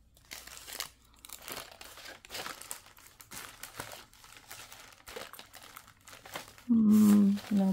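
A paper wrapper crinkled and handled up close for junk-journal crafting, producing soft, irregular crackles and rustles throughout, followed by a brief loud tonal sound at the end.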